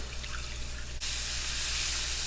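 Water poured into sardine sauce in a pan on the stove: a low hiss gives way after a second to a loud, bright, steady rush and sizzle of liquid that continues to the end.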